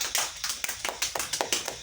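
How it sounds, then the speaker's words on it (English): A small group in an online class session claps for two junior presenters, producing a run of sharp, separate claps in an uneven rhythm across the short moment, moderately loud and close with no talking over it. "Everybody clap for it."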